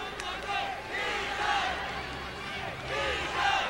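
A large crowd cheers and roars at Arrowhead Pond during the 2003 World Gymnastics Championships men's team final, with swelling shouts and whoops while a voice talks over the din.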